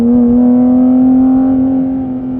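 A Porsche GT4 RS engine drones loud and close with a strong, steady tone, its pitch holding nearly level before easing slightly lower as the car drops through the gears heading back up a hill.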